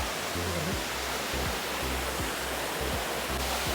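A waterfall at Vattavada roars as a constant, dense rush of water, near and loud, steady throughout with a faint low hum underneath.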